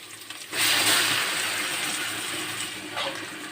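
Ground masala paste for dum biryani frying in a hot pan, a loud, steady sizzling hiss that bursts in suddenly and carries on strongly without a break, with no talking over it.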